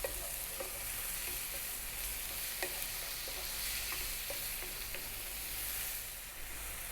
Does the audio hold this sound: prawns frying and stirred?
yes